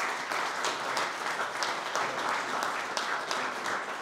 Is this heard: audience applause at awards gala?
yes